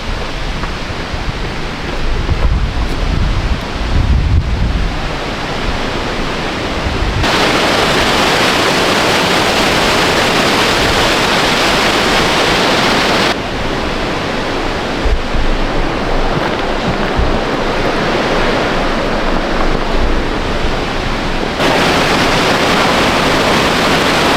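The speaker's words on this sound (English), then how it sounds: "Kayleen is bringing me to this crazy waterfall. Check this out. Hear it." A waterfall on Mt. Baker roars loud and close in a steady, unbroken rush of falling water, with brief shifts in intensity and no voices.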